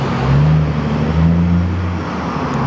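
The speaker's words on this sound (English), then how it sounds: "Here comes this big old loud truck again." A big, loud truck rolls past close by on the road with a heavy engine drone that lasts the whole moment. Its low hum dominates, and no voices are heard.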